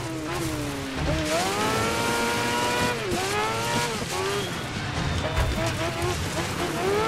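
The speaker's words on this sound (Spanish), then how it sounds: "Freno de coche." Car braking in the racing game Dirt 5, with sweeping engine tones and tire squeal over continuous loud game audio, while someone talks over it.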